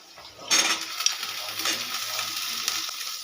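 Potatoes and fried eggplant stirred together in a hot pan: a sudden burst of sizzling after a brief quiet start, then steady frying with scraping stirs and light clinks of a utensil against the pan.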